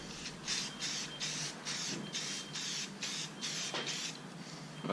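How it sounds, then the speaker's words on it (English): Repeated short bursts of aerosol spray hissing close up, about nine quick sprays in a steady rhythm. "Give it a quick spray."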